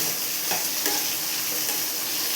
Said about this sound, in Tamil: இப்போ பாருங்கள், தக்காளி நல்லா வதங்கிடுச்சு.